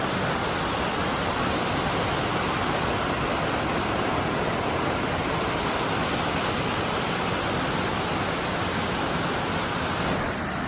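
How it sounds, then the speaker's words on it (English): A large slate waterfall on the Appalachian Trail in the 100-mile wilderness, roaring close by as a constant, loud, broadband rush of falling water with no pauses or voices. "waterfall."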